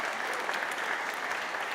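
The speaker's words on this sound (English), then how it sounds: "So I think we should give them a big round of applause for joining us tonight." Audience at a Comhaltas Ceoltóirí Éireann evening in Castletown Geoghegan breaks into applause, a dense, steady wash of clapping that holds at an even level throughout.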